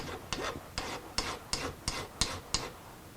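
A file cuts a chamfer on the end of a workpiece in a shop: eight evenly spaced rasping strokes in steady rhythm, close but fairly quiet, with no voices.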